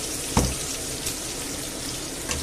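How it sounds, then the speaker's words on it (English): Broth poured into a pan of broken spaghetti with chicken and chorizo: a brief splashing gush near the start, then a soft, steady watery hiss with a faint second splash near the end. "I'm going to chuck in a little bit of broth, just so that I can mix it all about"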